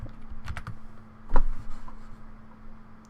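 Fingers type on a computer keyboard, entering a host name while installing a Kali Linux virtual machine: a close, quiet run of clicky keystrokes, then one sharper press and a few scattered taps.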